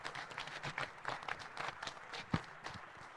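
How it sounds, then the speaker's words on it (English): Faint, steady applause from a conference audience closing a cybersecurity talk at Wild West Hackin' Fest 2023, a dense patter of hands with one sharper clap standing out near the end. "Big round of applause"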